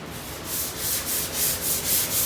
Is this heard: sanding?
yes